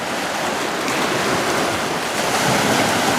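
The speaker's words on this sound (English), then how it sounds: "until these waves calm down" Wind-driven waves roll and slosh steadily on Weyakwin Lake in Saskatchewan, a continuous broadband wash mixed with gusting wind noise and no voices.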